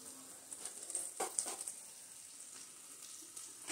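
Steamed amla (Indian gooseberry) is sautéed in a pan for pickle, giving a quiet, steady sizzle with a few stirring scrapes and spatters close by.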